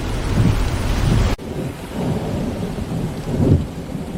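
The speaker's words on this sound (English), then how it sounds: "In a busy African city, the rain fell hard" Heavy rain pours steadily on a busy African city with a low rumble of thunder beneath it, one abrupt break partway through, then the downpour continues.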